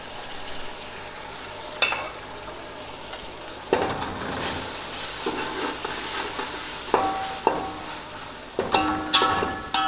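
Two tomatoes and four medium green chillies fry in a spice masala for matar pulao, a steady close sizzle broken by several sharp stirring scrapes and clatters against the pot.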